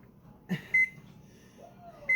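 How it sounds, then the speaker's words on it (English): Electronic beeps from a kitchen stove being reset before baking, two short bright tones in quick succession with a third near the end, alone over a quiet room hum. "I'm gonna have to reset my stove."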